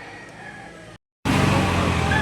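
A rooster crows amid the bustle of a chicken market in Lipa in the morning, its call rising over steady crowd and fowl noise, cut by a brief silence before the louder din resumes.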